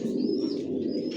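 Racer pigeons coo softly in a loft, a steady low murmuring that fills the whole moment, with a faint higher chirp drifting above it and no voices.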